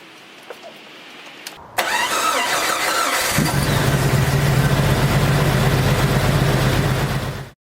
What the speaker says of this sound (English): Let's start it up and give it a try.